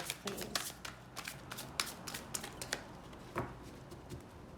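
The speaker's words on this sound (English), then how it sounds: "this is the last shuffle" Tarot cards being shuffled by hand, a rapid run of crisp riffling slaps and flutters close by, with brief pauses between bursts.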